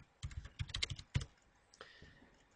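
A password is typed on a computer keyboard: a quick, close burst of about a dozen crisp keystrokes, a short pause, then a couple of softer key clicks.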